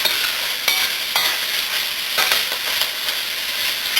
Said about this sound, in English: you cook this down until the onions, what you call translucent